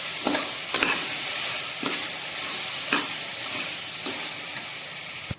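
Coriander, cumin and garam masala powders stirred into frying food in a pan, a constant loud sizzle broken by regular spatula scrapes, with no talking.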